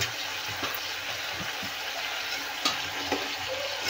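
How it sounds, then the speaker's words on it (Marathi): Mixed vegetable curry of brinjal, peas and potato being stirred in a pan, a soft steady sizzle under scattered scraping knocks from a spoon, close and fairly quiet, with no voices. "आणि याला परत हलवून घेऊया."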